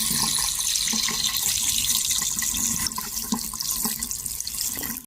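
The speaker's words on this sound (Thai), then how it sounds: "น้ำไหลสะดวกขึ้น" A repaired household faucet runs in a steady, close, continuous rush of water into a sink, with no talking.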